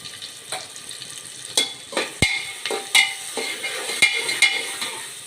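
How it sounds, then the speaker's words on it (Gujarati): Turmeric and red chili powder are stirred into hot oil for a spicy Kathiyawadi khichdi cooked in a village kitchen. A steady frying sizzle runs under repeated scraping strokes and sharp taps of a spoon against the pot, with no talking. "બરાબર મિક્સ કરી દઈએ એટલે હળદર અને લાલ મરચું બરાબર તેલમાં ભળી જાય"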